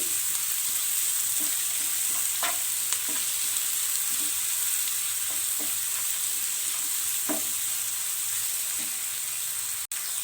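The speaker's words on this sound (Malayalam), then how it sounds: "നന്നായിട്ടൊന്ന് മിക്സ് ചെയ്യുക. ഉള്ളിയൊക്കെ ജസ്റ്റ് ഒന്ന് വാടി കിട്ടിയാൽ മതി." Sliced onions sauté with salt in a hot pan while making soya chunks Manchurian, giving a steady close sizzle broken by intermittent scraping stirs of a spatula, with no voices.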